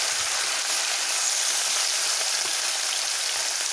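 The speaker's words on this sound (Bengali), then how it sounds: "ওর মধ্যে মাছগুলো ভেজে নিচ্ছি" Small river fish frying in a very hot wok give off a steady, dense, hissing sizzle that stays close and even throughout, with no voices.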